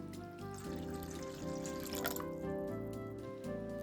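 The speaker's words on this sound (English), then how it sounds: "Okay, I add the water to it." Water poured from a tap onto dried hijiki seaweed, a steady close stream with faint dripping, mostly masked under continuous background music.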